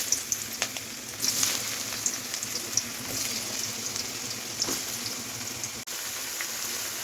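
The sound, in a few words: young jackfruit pieces frying in hot oil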